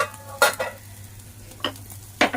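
Chopped capsicum stir-fried with chicken filling in a pan: three sharp spatula scrapes against the pan over a soft steady sizzle, close and clear, no voices.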